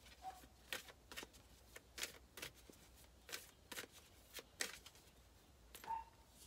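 Oracle cards being shuffled by hand, a series of soft, quick riffling bursts at a regular pace, close and quiet with no talking.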